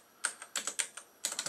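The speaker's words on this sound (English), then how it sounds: "Oh, crap, I gotta type this in." Quick, close keystrokes clatter on a computer keyboard while a command is entered over an SSH session to a Raspberry Pi Zero, coming in short uneven bursts of several taps each.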